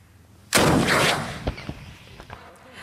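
A military flamethrower and infantry weapons firing during chemical-defence troop exercises: one loud sustained blast followed by several sharper distant reports.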